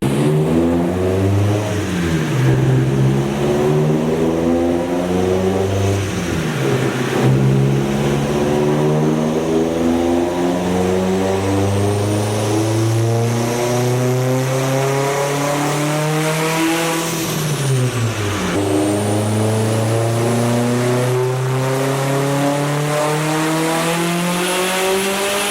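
A 2007 Subaru STI with an ETS turbo kit on a dyno makes loud, close engine pulls. The revs sweep upward again and again through gear changes, with turbo whine over the steady roar.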